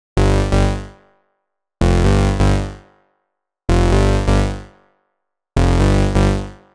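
Bass Fold, a fat, analog-style synth step bass preset for tech house, plays four loud, evenly spaced phrases, each a couple of quick hits decaying into silence, with no other sounds.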